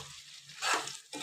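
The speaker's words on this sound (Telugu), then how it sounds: "ఇప్పుడు ఒకసారి అంతా మంచిగా మనము మిక్స్ చేసుకుందాము." Mutton masala curry is stirred in a pan, with a soft sizzle under a few scraping bursts of the spoon through the thick gravy over just over a second.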